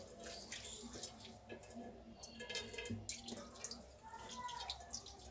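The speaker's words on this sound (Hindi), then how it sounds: "और इसमें ये पानी डालेंगे ठंडा, जो कि हमने नींबू डाला था उसकी खटास थोड़ी हट जाए।" Cold water poured over fresh homemade paneer in a cloth while making kalakand milk burfi, a soft trickling and dripping with splashy squishes as the curds are pressed, fairly quiet and close.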